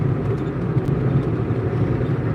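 A steady, even low rumble of road and engine noise fills the cabin of a stick-shift car cruising on a long drive to a big city, with no voices.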